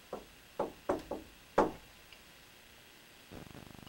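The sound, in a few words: knock on a wall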